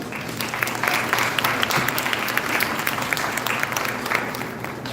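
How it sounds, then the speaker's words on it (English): An audience at an Asian American community Capitol Day event gives a round of applause, a dense, continuous crowd of clapping that holds steady and begins to taper near the end. "So a big round of applause."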